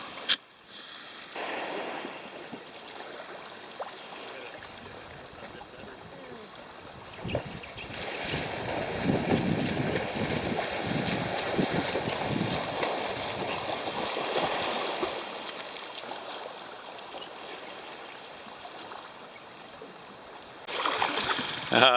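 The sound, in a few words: rowing a sailboat with oars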